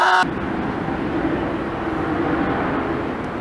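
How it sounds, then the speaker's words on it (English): Helicopter passing overhead at a skate spot, a steady loud broadband roar with a low rotor rumble that holds for the whole stretch after a brief opening sound. "Dude, the helicopter!"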